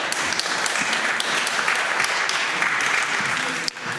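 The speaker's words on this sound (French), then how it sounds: "Vous pouvez applaudir Bruno Kuss." Audience applause greets Bruno Kuss, editor-in-chief of a stock-market newsletter, at a press panel on market recommendations, a dense, loud burst of clapping throughout with a faint voice underneath near the end.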